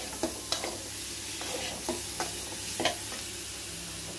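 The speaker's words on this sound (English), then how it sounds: "Now I fry this drumstick and spices well." Drumsticks frying with chilli powder and spices in a pan, a steady sizzle broken by repeated sharp scraping clicks of a spoon stirring, close and fairly loud with no talk.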